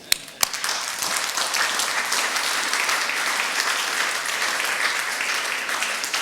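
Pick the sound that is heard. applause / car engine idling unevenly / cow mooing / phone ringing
applause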